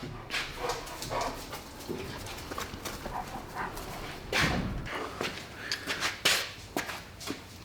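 A dog barks in short bursts and whimpers in a garage setting, close and moderately loud, with rustling and clattering between the calls.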